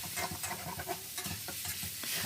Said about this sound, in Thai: ใส่ข้าวจากนั้นเราก็ผัดคลุกเค้าให้เข้ากันก่อนครับ